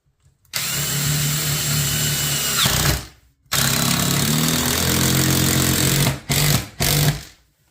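A power drill drives 3-inch screws into a wooden wall stud in loud, close bursts of whining motor: one long run, a short pause, a second long run, then two quick final pulses.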